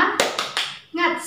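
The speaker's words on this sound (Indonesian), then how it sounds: "ada baiknya kita tepuk semangat dulu ya, biar tambah semangat" Children in a classroom clap out a rhythmic spirit clap before a lesson, a few sharp hand strikes in a quick pattern, with a young voice chanting between the claps.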